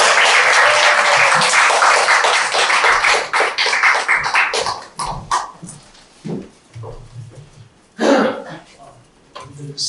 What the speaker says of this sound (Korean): 우리 뜨거운 박수로 환영합니다.